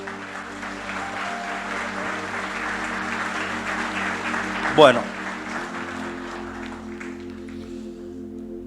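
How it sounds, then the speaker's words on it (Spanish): A church congregation applauds during a Spanish-language Yom Kippur sermon, a steady wash of clapping from a crowd beneath a voice, with a brief louder burst partway through before the sound settles. "Dale un aplauso al Señor."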